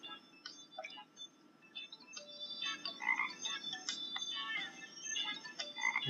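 Cartoonish frog croaks from the iOS game Army of Frogs, a steady run of short chirpy calls over a soft electronic backdrop, bunching into busier clusters partway through.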